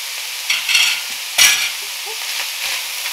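Meat frying in a pan with spices, a light continuous sizzle broken by a few spatula scrapes and stirring clatters, close and moderately loud, no talking.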